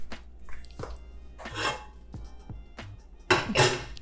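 Metal clinks and knocks as an aluminum cooking pan is handled and set down, a series of sharp taps and scraping rattles, close and fairly quiet.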